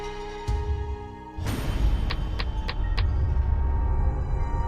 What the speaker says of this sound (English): Robert Blake starts the engine, and he rolls down Bonnie's window